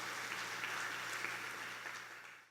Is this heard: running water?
no